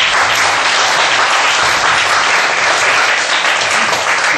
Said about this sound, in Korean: 자, 우리 한번 박수 한번 하고, 감사합니다.